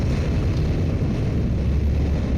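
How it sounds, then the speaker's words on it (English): A jet engine roars at liftoff in the video game Amerzone, a steady, dense, low-heavy rush that holds at an even loudness throughout with no voices. "Jet engine."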